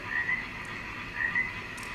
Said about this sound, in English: Like this very, very interesting looking Suriname toad.